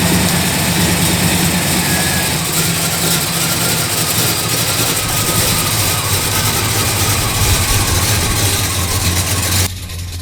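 A 1967 Dodge Charger restomod with a 383 four-barrel V8 and TorqueFlite automatic idles steadily and close by, a deep continuous rumble with an even low throb that cuts off abruptly near the end.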